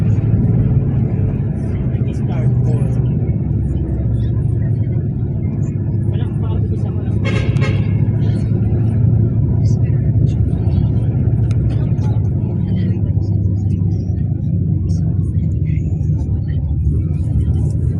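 Car traffic on an elevated skyway flyover, a steady loud low rumble of passing vehicles heard from nearby, with people talking over it.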